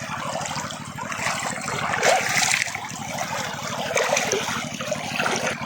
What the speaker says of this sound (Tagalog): Pero medyo malakas ang current.